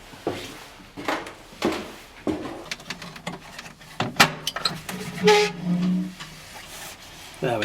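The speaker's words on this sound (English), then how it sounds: "There, we can hear that knocking now." A flagpole knocks in the wind at night in a hall setting, irregular hollow thuds and clanks at varying loudness, some nearer and sharper, against rustling background noise.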